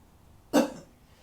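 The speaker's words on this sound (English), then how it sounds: "So you're just going to cough." A single short, sharp cough rings out once against near silence.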